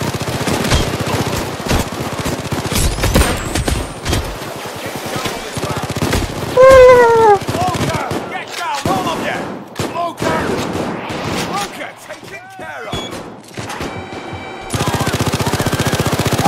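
Sentry guns fire in bursts during a Payday 2 nightclub heist, with rapid automatic gunfire rattling through chaotic game sounds and players talking over the action.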